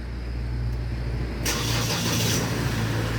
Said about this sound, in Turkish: Şimdi frenle birlikte basarsan butona araç çalışır